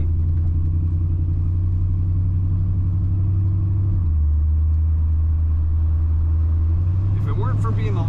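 A 1986 Chevrolet C10 pickup's engine roars loudly and steadily up close as it accelerates, its pitch dropping at a gear change and then climbing again as it pulls; a voice enters near the end.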